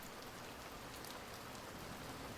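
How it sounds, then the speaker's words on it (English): Soft, continuous hiss of rain falling on Navajo Nation land near Lake Powell, a faint, even wash of countless drops with no voices. "I think where I am today, it's raining"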